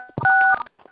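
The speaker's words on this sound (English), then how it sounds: "I want you to press star 6 right now on your phone." Telephone keypad tones from pressing star 6 during a community conference call: two short DTMF beeps, the second held longer, sounding close and clear, followed by faint background noise.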